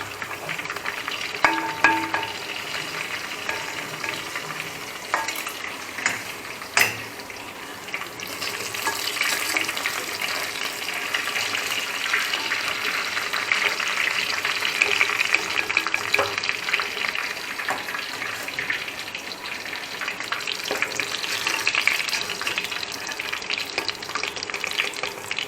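Chicken sizzles in a hot pan with a steady, moderate frying hiss, broken now and then by a few scraping stirs and taps, close up and without speech.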